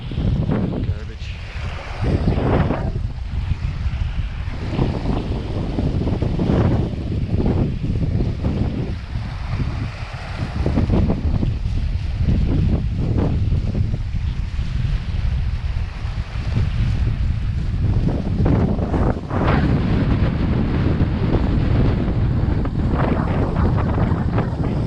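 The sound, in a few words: wind blowing on a beach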